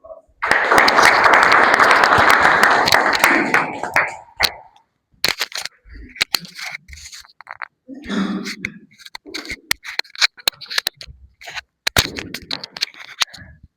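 Loud, dense applause fills a Toastmasters club meeting for about four seconds and then fades into scattered claps, with people talking faintly afterward.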